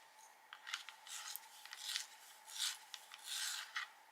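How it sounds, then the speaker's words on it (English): A peach beige colored pencil being sharpened, giving a close, dry rasping scrape in repeated short bursts of grinding strokes with brief pauses between them, no voices. "I need to sharpen this one"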